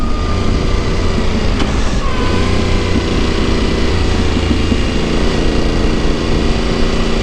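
Yamaha Tenere 700 motorcycle engine drones steadily on a mountain pass ride, a constant loud hum mixed with heavy wind rush and no talking.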